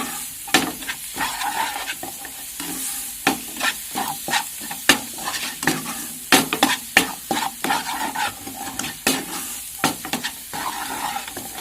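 Spice masala frying in coconut oil for Kottayam-style pepper chicken, heard close up as repeated scraping stir strokes over a steady sizzle, with no talking.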